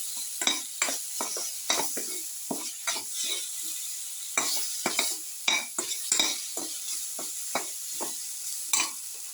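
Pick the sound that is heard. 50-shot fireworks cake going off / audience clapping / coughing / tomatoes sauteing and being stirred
tomatoes sauteing and being stirred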